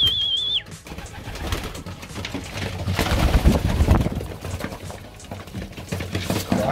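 Racing pigeons peck at pigeon pellets, a busy clatter of quick taps close by, with a brief bird call at the start.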